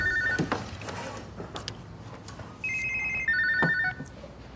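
A telephone rings with electronic trilling bursts, starting softer and growing louder, heard over background room noise before the call is answered.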